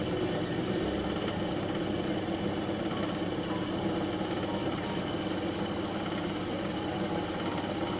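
Dichroic glass cabochon ground on a hard wheel, a steady loud whirring grind with continuous broadband noise and faint high tones, unbroken for the full stretch.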